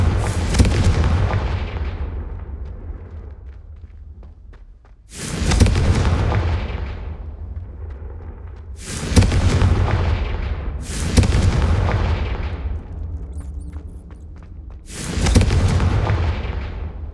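Confringo fire spell explosions from the Hogwarts Legacy video game boom loudly five times at uneven intervals, each blast fading into a long rumbling decay with no talking.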